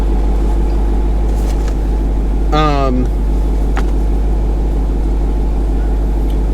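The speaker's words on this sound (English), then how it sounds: "Hear my car going." A car drives with windows open, a steady low road rumble and wind noise, and a brief pitch-sliding whine cuts through partway.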